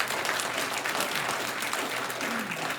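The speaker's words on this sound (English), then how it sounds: "I always know I'm in trouble when people clap." An audience claps at a Bridgeport-Spaulding school board meeting, a dense, even spatter of hands that holds steady throughout at moderate loudness.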